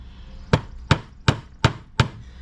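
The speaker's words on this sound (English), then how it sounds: "Kept the cloth on there so I didn't hit the ornamental piece with the hammer directly and scratch it." Five sharp, evenly spaced hammer taps strike an ornamental piece on an old painted hutch through a protective cloth, close and alone with no talk.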